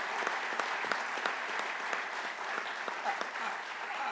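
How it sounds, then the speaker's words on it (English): Sustained applause fills a sheriffs' association fall conference hall, a dense even wash of many hands with a few sharper claps standing out, moderately loud and continuing for several seconds. "Can we give her another round of applause?"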